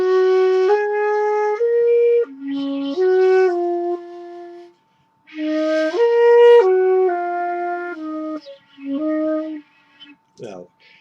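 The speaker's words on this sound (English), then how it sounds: "let me get my flute out" Solo flute playing a slow melodic passage with clear sustained tones, phrased in several short runs separated by brief pauses, close and fairly loud with no talking.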